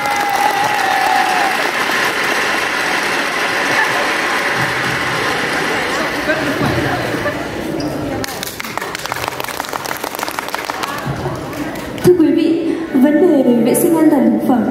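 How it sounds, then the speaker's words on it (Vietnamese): Sustained applause from an audience at a Vietnamese presentation contest on food safety and environmental protection, a steady dense wash of clapping that thins and turns patchy, with a voice speaking briefly near the end. "hãy dành một tràng pháo tay"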